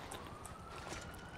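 A police siren wails steadily indoors in a house, a continuous rising tone that sits behind a muffled, noisy background, with no voices over it.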